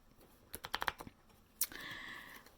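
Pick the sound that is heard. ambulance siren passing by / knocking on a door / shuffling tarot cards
shuffling tarot cards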